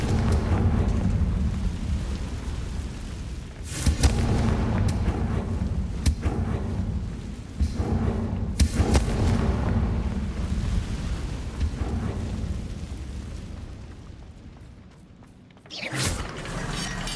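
Confringo spell blasts in the video game Hogwarts Legacy go off as several sharp, loud bursts scattered over a low rumbling background, each crack followed by a brief decay.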